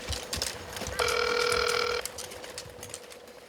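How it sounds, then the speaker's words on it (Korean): A phone ringing unanswered, one steady electronic ring tone lasting about a second amid faint background noise and rustle. "뒤처진 언니들 걱정에 전화를 걸어보는데요."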